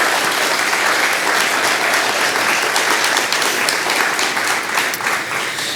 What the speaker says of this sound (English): I just want to do a quick round of applause for the district administration team.